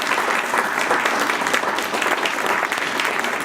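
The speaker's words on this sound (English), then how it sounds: "How about a round of applause for Mr." An audience at a school dedication ceremony gives a loud, steady round of applause, dense clapping continuing evenly throughout with no break.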